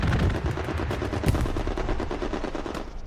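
Strafing-run gunfire in Hell Let Loose, a sustained, dense burst of rapid machine-gun fire with a heavy low rumble, loud and continuous for about three seconds with no voices.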